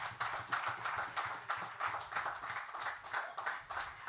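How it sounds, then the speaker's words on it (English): A town hall crowd applauds in a steady patter of many clapping hands, moderately faint and unbroken by speech. "Give all of them a round of applause."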